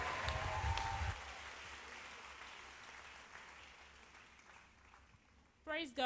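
Church congregation clapping, a loud burst of applause at first that quickly fades into a long quiet tail with faint murmuring, then a short voice near the end.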